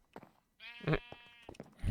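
Sheep in a farming video game let out a drawn-out, wavering bleat at mid-loudness, framed by short clicks and soft game sounds.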